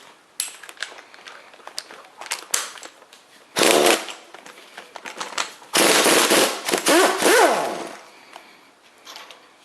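Bolts on a 1962 Studebaker 289 V8 being loosened with a wrench or ratchet, giving bursts of rapid metallic clicking and rattling, with two louder, longer ratcheting stretches near and close, and scattered clanks between.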